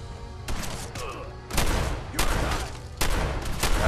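Loud, heavy blasts from a combat shotgun in Fallout 4, coming as several separate bursts about a second apart, each one close and sharp over a low background rumble.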